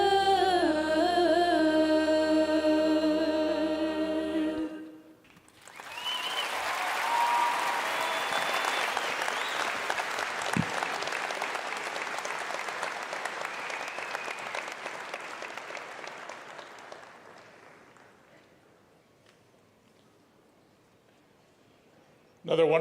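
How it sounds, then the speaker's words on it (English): Warm applause from a crowd for the choir and musicians at a Rocky Mountain High School graduation ceremony in 2023, starting after the music ends, staying steady and full for about twelve seconds, then fading away. "Another wonderful round of applause for our choir and our musicians"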